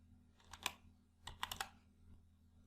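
Keys clack on a computer keyboard as text is typed into a spreadsheet cell, a few quick faint presses in two small clusters over a quiet background.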